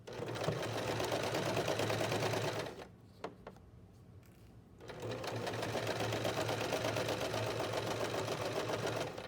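A sewing machine runs steady and close as it pivot-stitches layers of fabric. It stops for about two seconds, with a few small clicks while the pin is pulled and the fabric turned, then starts stitching again.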